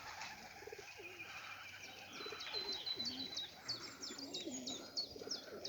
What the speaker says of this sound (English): Some are taking a bath, and they're just having a few hours open loft.